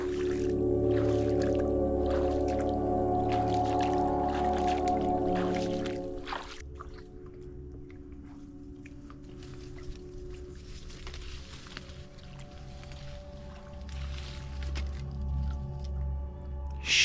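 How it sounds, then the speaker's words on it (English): A kayak paddled through mangrove water on a solo survival crab-hunting trip, with soft, continuous splashing and dripping close by, following a few seconds of steady tonal sound. "we're gonna jump back in the kayak"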